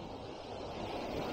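Ocean surf breaks on the shore at John Lloyd State Park beach, a steady, loud, rushing roar of water and wind that holds through the whole stretch with no voices.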